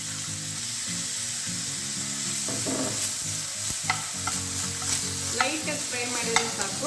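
About two spoons of carrot lightly frying in a pan, with a soft steady sizzle under repeated scraping and stirring of a spoon, and small clinks toward the end.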